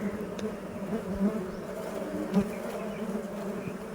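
A honey bee buzzes close by at dripping palmyra palm sap, its steady, fairly loud drone rising twice into brief louder passes over a faint outdoor background.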